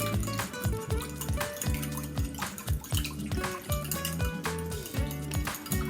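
Balsamic vinegar and Dijon mustard salad dressing whisked briskly in a bowl, a rapid rhythmic sloshing and clinking that repeats steadily and close up throughout, with no voice over it.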